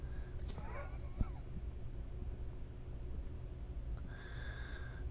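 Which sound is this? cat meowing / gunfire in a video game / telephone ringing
cat meowing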